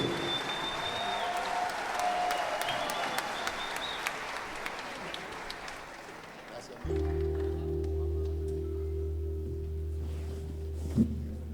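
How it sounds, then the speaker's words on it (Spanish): Crowd applause for a police national band and orchestra fills the first half, dense and steady, then fades as sustained band tones begin and hold to the end. "Fuerte ese aplauso para todos y cada uno de los músicos."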